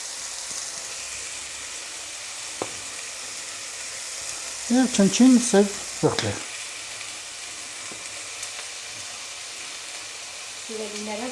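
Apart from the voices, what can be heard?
meat pieces frying in a pan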